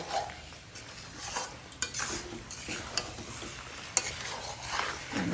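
A spoon stirs potato and cauliflower curry in a pan, giving soft scraping and light sizzling with occasional clinks, fairly quiet and close, with no talk.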